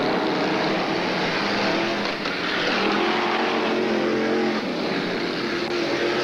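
F1 stock cars racing in a pack around Brandon Stadium in Coventry in 1981, a dense, continuous roar of several engines that stays loud and steady throughout, with shifting revs as the cars jostle together.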